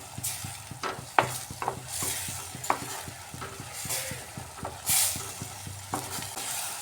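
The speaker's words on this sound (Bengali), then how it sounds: "এই পেস্টটা দিয়েও আরও কিছুক্ষণ কষিয়ে নিতে হবে" Spice paste for egg tikka masala is sautéed in an oily pan with a continuous sizzle and a regular rhythm of spatula scrapes and knocks against the pan.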